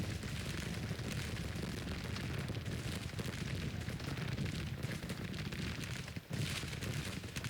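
Artillery cannon fire in the Civil War strategy game Grand Tactician: The Civil War, a continuous dense rumble of booms and blasts, faint and steady, with one brief dip near the end.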